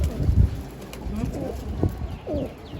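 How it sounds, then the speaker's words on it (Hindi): Pigeons gathered in a flock coo in soft, repeated throaty rolls over steady outdoor ambience, with a person talking intermittently nearby. "ये देखें कितने सारे बर्ड्स, ये देखें कितने सारे आए हैं।"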